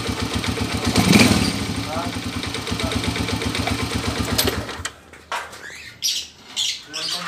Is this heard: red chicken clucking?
no